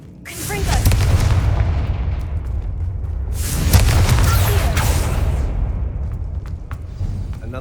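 Confringo spell explosions from Hogwarts Legacy: two heavy booming blasts with a deep rumbling tail, the first near the start and a second, louder one midway, each decaying slowly.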